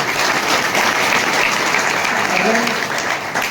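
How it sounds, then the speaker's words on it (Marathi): A crowd applauds loudly and continuously at a Shiv Jayanti celebration on Sindhudurg fort in Malvan, a dense clapping wash throughout with faint voices mixed in. "त्यांच्यासाठी जोरदार आपण टाळ्या वाजवूया"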